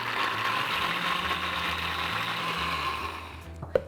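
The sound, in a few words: blender grinding soaked soybeans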